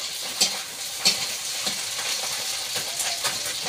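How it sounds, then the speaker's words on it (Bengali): Fish sizzling as it fries in a pan, a steady crackling hiss with a few sharper spatters and clinks of stirring, close and moderately loud with no voices. "এই মাছ ভাজাগুলো হয়ে গিয়েছে"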